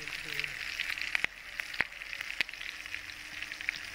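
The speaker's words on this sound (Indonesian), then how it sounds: "Pertama kita tumis dulu, gengs, bawang merah." Shallots sauté in a pan for seblak, a steady close sizzling hiss broken by several sharp, separate ticks and clicks.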